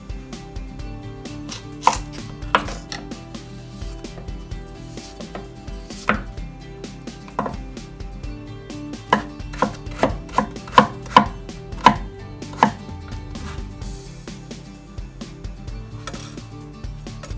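A knife julienning cucumber into thin strips for futomaki, with a steady run of crisp chopping taps on a board that cluster quickly mid-way and then ease off.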